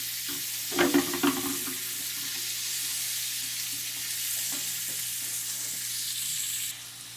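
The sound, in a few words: onions frying in a pan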